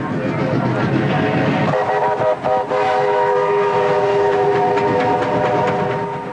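Steam train at a turn-of-the-century railway event in Dorrigo, loud and close, with a sustained whistle blast over steady chuffing and rumble.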